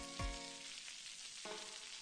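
Bitter gourd (ampalaya) sautéing in a pan with garlic and onion: a quiet, even sizzle broken by two brief metallic clinks of a utensil.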